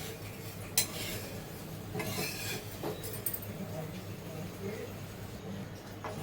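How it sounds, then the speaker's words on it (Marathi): Filling ingredients for stuffed crab dry-roast in a pan, giving a steady low sizzle with repeated scraping and stirring strokes and a few sharp clinks of a metal spoon against the pan, close by, with faint voices in the background. "हे ना असे मस्त आपण भाजून घेऊया"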